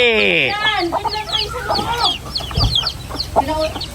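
Chickens clucking up close, with a rooster-like call at the start, scattered squawks and a brief thump amid soft background chatter.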